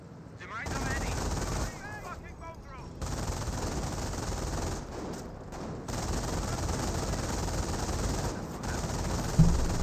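Machine-gun bursts and scattered gunfire fill a Company of Heroes match between US forces and Panzer Elite, with Sturmwagens in action, steady and dense throughout with a sharper crack near the end, while a commentator talks over it.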